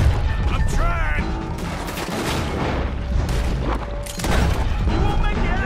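Gunfire during a train robbery in Red Dead Redemption 2, a dense, loud barrage of shots and booms over rumbling train noise, with characters shouting over the fight.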